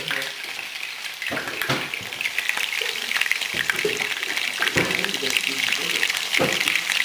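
Swedish meatballs fry in hot fat with a steady, close sizzle and crackle, joined by occasional stirring scrapes and faint water or utensil noises, while a voice talks intermittently over the cooking.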